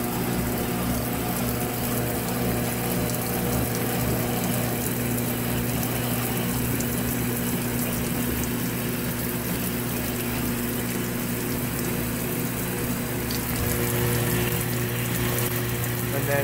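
A GE GTW680BS6JWS top-load washing machine runs its spray jet during a jeans cycle, giving a steady close mechanical hum with a running-water hiss and faint ratcheting, continuous throughout with no talk.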